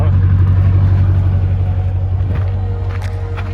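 Hydraulic leveling legs retracting on an RV, a loud, steady low motor hum that drones continuously and eases slightly in level toward the end.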